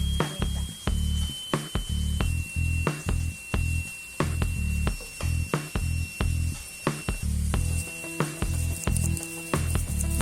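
Onion rings sizzle in a pan while crabs are cooked Filipino style, a steady frying hiss broken by regular pulsing bursts with a faint tonal hum running behind.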